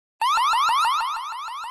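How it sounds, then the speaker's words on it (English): A loud Wyze Cam Floodlight security camera siren at 105 decibels bursts on abruptly, then sweeps upward in rapid repeating whoops, piercing and close. "Or let the 105 decibel siren do the talking."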